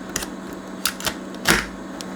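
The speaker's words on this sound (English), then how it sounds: "Let's put the tape deck back in." A tape deck mechanism is fitted back into a Ferrari car radio, giving a few sharp, close clicks and clunks spaced irregularly, with a slightly louder rattle near the end and no talking.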